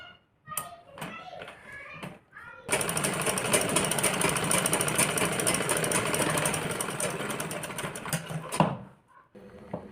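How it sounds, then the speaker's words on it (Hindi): A sewing machine stitching a blouse runs loud and steady for about six seconds with a rapid, buzzing needle rhythm, preceded by light handling clatter and ending abruptly in quiet. "ये देखिए अब हम इसको ऐसे सिलाई मार लेंगे। हम एक और सिलाई मार लेंगे यहाँ पे।"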